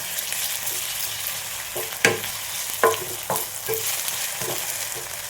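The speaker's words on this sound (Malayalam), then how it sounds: "ഈ സമയം നമുക്ക് ഒരു അര ടീസ്പൂൺ ഇഞ്ചി വെളുത്തുള്ളി പേസ്റ്റാണ് ഒഴിച്ച് കൊടുക്കാം ഞാനതൊന്ന് മൂത്ത് വരട്ടെ" Ginger garlic paste fries with onions in a pan, giving a steady close sizzle broken by sharp spatula scrapes and taps against the metal every second or so. No one speaks.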